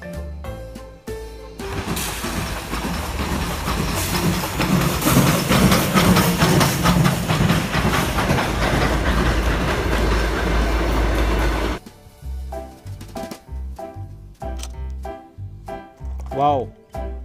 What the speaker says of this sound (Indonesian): Ini ada lokomotif kereta api.